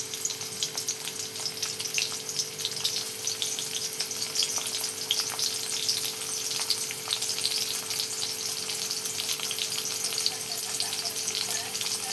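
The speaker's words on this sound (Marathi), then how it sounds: "आता इथं मिरच्या आणि लसूण टाकून घेणार आहे" Green chilies and garlic frying in hot oil for a fenugreek greens dish, a dense, even crackling sizzle with small pops that holds steady throughout, no talking.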